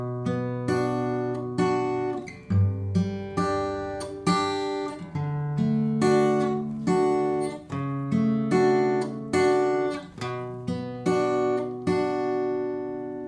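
An acoustic guitar fingerpicks a slow chord progression from a song, each chord plucked and left ringing before the next, clear and close.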